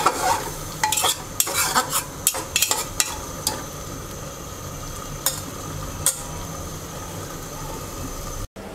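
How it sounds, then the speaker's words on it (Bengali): Boiled chana dal for nargis kebab, cooked uncovered to dry off the water: a quick run of close spoon scrapes and knocks against the pan at first, then a low, steady simmering hiss with a couple of later scrapes. "এবার ঢাকনা ছাড়া পানিটা শুকিয়ে নিচ্ছি।"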